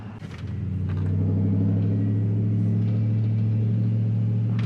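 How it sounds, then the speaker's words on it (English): A second-generation Dodge Ram with a Cummins diesel engine starts moving and backs out of a driveway, its deep, throbbing engine rumble swelling over the first second and then holding steady and close. "it shifts through all the gears and has reverse and backs out of the driveway"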